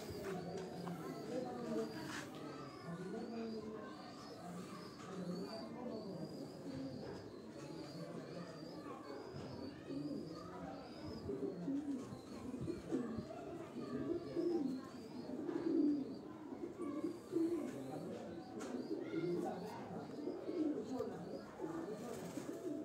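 Rooftop pigeons coo steadily and repeatedly close by, with a voice talking over much of it.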